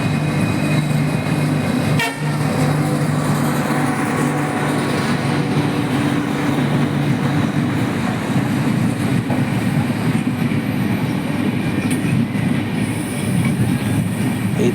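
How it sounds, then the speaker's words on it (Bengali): An express train with a Vistadome coach rolls steadily through a station, a continuous loud rumble of wheels and carriages with a horn toot early on and faint wheel squeal, no voices. "আবার একটি এক্সপ্রেস ট্রেন অ্যানাউন্স হলো। এই এক্সপ্রেস ট্রেনটিতেই ভিস্টাডোম কোচ রয়েছে।"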